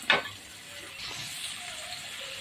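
Shallots frying slowly on a low flame in a pan for peerkangaai poriyal, a soft, even sizzle after a brief clink at the start, continuing steadily and fairly quietly.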